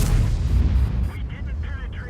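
A heavy tank cannon blast in World of Tanks, fired from a T110E4-style tank destroyer: one loud, booming shot at the start that rolls off into a dull rumbling decay.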